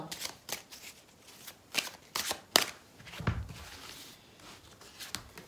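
Oracle cards being shuffled by hand at close range, with a run of soft riffles and slaps, several sharper snaps and irregular pauses, and no voice.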